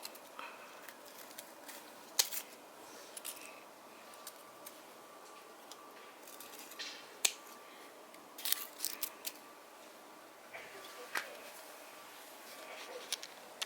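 Pruning shears from Flying Tiger snip through dried plant stems with no green left on a home balcony, giving quiet, sharp clicks scattered irregularly across a soft background hiss.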